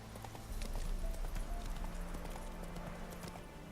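Horse hooves running along a road in The Witcher 3, a steady, fast clip-clop rhythm at moderate loudness with a low rumble underneath, heard alone without talk.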